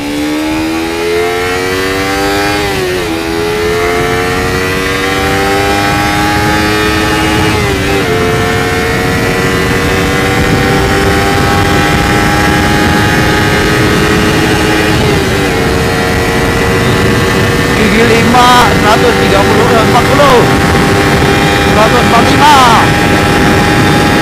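Kawasaki Ninja 250FI motorcycle accelerating hard, its engine note rising steadily through the gears with brief dips at shifts, loud and close with heavy wind rush throughout.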